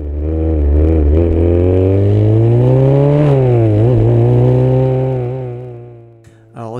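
A Formula 3 single-seater on the Paul Ricard circuit screams at high revs from an onboard position, pitch rising and dipping through a gear change before the engine note drops away near the end.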